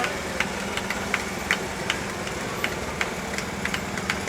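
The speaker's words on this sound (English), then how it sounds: "That's a 1901 Oldsmobile." An engine on a 1901 Oldsmobile car runs at a parade with a steady mechanical chug and regular ticking knocks repeating about twice a second, moderately near over a constant background rumble.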